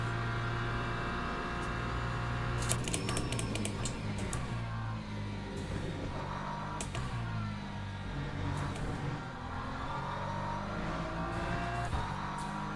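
A BMW race car engine in a sim racing game drones steadily and loudly throughout, its pitch shifting with gear changes and throttle, with faint clicks of keys or controls layered over the continuous roar.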